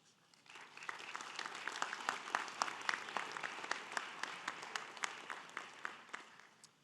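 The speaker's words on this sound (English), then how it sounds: "I know you've been applauding for more than 2 hours" Audience at a sports hall of fame ceremony bursts into applause, rising quickly into sustained clapping with sharp individual claps standing out, then tapering slightly near the end.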